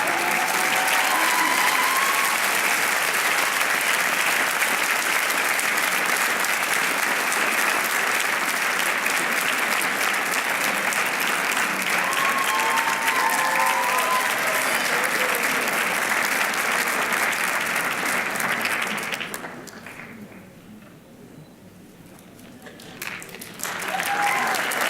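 A graduation audience at Cushing Academy in 2013 applauds a prize recipient with sustained, loud clapping that carries on for about twenty seconds and then fades to scattered claps.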